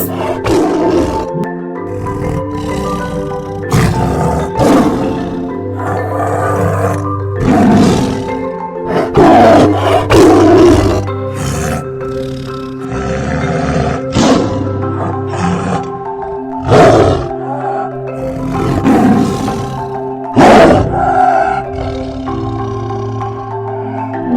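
A tiger roars again and again, deep rumbling bursts rising and falling in a steady series, loud and close, with no talking.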